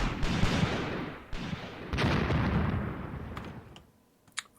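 Artillery fires in the Graviteam Tactics World War II battle near Shilovo, 1942: a few heavy booming blasts with rolling rumble and crackle between them, fading toward the end with one sharp late report.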